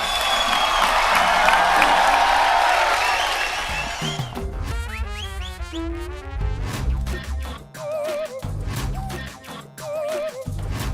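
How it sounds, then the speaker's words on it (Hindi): A TV comedy show audience applauds and cheers in a dense wash of clapping for a few seconds, then it fades as music and voices take over. "दोनों के लिए तालियां भाई"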